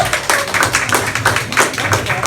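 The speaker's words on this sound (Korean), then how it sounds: "오늘 강의를 해주신 다이아몬드 마스터 이상수 팀장 큰 박수로 모시도록 하겠습니다." Audience clapping at an Atomy business meeting lecture as a speaker is welcomed, a loud, close, continuous patter of many hands, mostly alone with only slight background voices.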